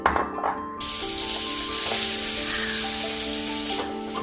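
Crushed shallots and curry leaves hit hot coconut oil in a pan with a sudden loud sizzle that keeps going strongly, sharp and close, with faint clinks in the background.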